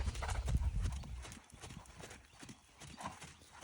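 Horse hooves trot in a steady clip-clop rhythm across an arena during a training session, close and fairly loud, with brief low thuds and a faint distant whinny-like tone.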